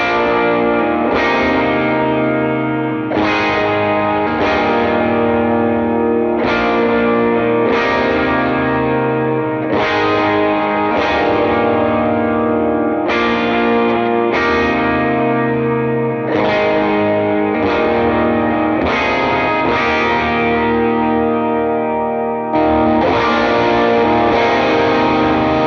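Electric guitar plays a lead part for a worship song, run through distortion, chorus and other effects, with sustained, loud chord-like notes changing every second or two across a long passage and no talking.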